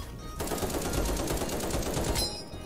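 Rapid automatic gunfire in the Krunker.io video game rattles in one dense, loud burst lasting about two seconds.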